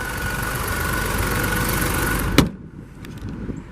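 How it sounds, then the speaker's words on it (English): A 2020 Ford Escape SE with a 3-cylinder Ecoboost engine idles with a steady, slightly buzzy hum, then cuts off abruptly with a thump as a hood closes, leaving near quiet. "this honestly has a pretty unique engine note to it as well"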